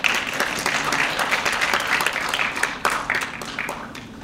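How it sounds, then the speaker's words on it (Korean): Audience applause at an international symposium, a dense steady wash of many hands clapping at close range that holds throughout and tapers slightly toward the end. "큰 박수 부탁드리겠습니다."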